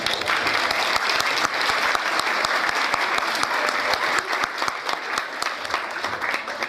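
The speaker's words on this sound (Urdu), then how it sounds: "اگر آپ کو میرا جواب صحیح لگا تو آپ اپنی تالیوں میں بتائیں گے" Sustained audience applause at a formal function, many hands clapping densely and steadily for the whole stretch with no voices over it.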